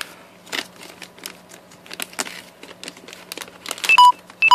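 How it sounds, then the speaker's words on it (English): A phone gives short electronic beeps for a low battery near the end, over a quiet room where crunchy hamster food mix rustles and crackles in irregular bursts. "you will hear that beeping. It's my battery being low."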